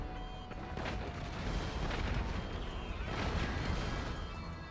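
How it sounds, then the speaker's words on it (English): A mobile operation center turret fires continuously in GTA V Online, a dense, loud barrage of blasts and impacts rumbling without pause. "I'm using the mobile operation center turret."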